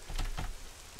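Rain drips and patters in the survival game SCUM, a soft steady wash with a couple of louder splashy bursts near the start, fading slightly toward the end.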